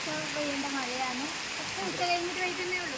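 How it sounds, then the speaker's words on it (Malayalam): Steady rain falls on a morning in a town in June, with an even hiss filling the whole moment while people talk over it nearby. "സ്കൂൾ പോകുന്ന സ്ഥലത്തിൽ മഴ പെയ്യുന്നുണ്ട്"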